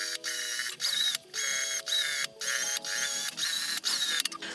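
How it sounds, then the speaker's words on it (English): A sewing machine stitches quilted lines through fabric and wadding, running in short whirring bursts with brief pauses between, close and mechanical with a rhythmic needle clatter. "now I'm going to sew through all of those lines"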